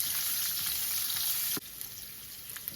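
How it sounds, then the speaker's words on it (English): Garlic cloves and ginger sautéing in a pan, a dense, loud hissing sizzle that continues throughout, with a single soft knock partway through and no voices. "Now I'm adding the garlic cloves. Then I'll add the ginger. We'll saute this."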